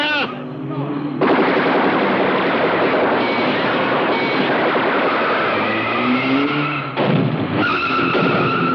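In a 1982 film scene, soldiers fire guns in a dense, continuous roar of loud gunfire lasting several seconds, with a brief break near the end before it resumes.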